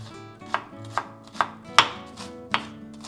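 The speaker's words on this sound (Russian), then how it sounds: "Лук я нарезаю мелко." Knife finely chopping an onion on a board, six sharp evenly spaced strikes in a steady rhythm, close and clear with no voices.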